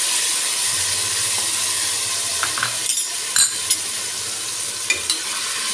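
Ginger garlic paste frying in hot oil in a cooking pot, a steady sizzle throughout with a few sharp clinks of a spoon near the middle and end, no talking.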